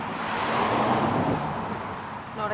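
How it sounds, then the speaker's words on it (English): A vehicle approaching on a road, a broad steady rushing rumble that swells and lingers, heard alone without talk. "I heard a vehicle."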